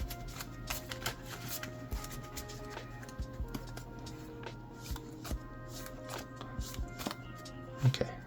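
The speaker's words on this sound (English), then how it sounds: "So we're gonna do one more shuffle." A Satellarknight trading card deck being shuffled, with repeated riffles and soft taps recurring over several seconds, close by in a quiet room.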